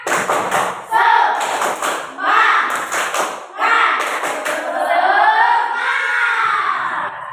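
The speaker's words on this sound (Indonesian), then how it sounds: "anak-anak kita tepuk semangat dulu" Schoolchildren in a classroom perform a rhythmic spirit clap, bursts of patterned clapping in groups, mixed with loud young voices chanting along close by.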